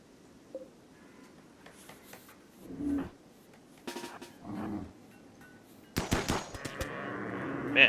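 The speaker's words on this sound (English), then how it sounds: "Man, he is good at firing." Gunfire from the colony-building video game RimWorld, faint and scattered at first, then a dense run of loud, sharp bursts near the end, like a rapid exchange of shots.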